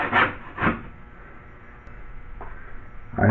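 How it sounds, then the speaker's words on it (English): A putty knife scraping burrs off the edges of drywall tape on a fire-taped ceiling, heard as two short rasping strokes near the start and another near the end, close and moderately loud against a quiet room. "we're going to take our knife and we're going to scrape any burrs off the edges here"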